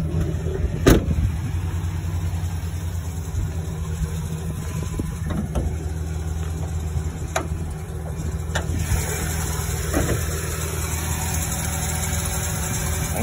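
A 2009 GMC Sierra 1500 pickup truck engine idles steadily with a low, even rumble, with a few sharp clicks and taps over it.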